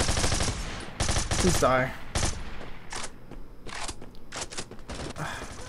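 Bursts of rapid gunfire in the Bullet Force first-person shooter game, loud and close with fast automatic volleys and scattered single shots, while a voice speaks briefly.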